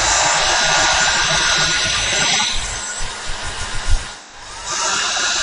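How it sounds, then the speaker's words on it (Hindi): A small hair dryer blows a steady, loud rush of air close by, with its whoosh dipping briefly midway and then returning to full strength. "तो मेरे पास छोटा सा हेयर ड्रायर है, मैं इसका यूज कर रहा हूं"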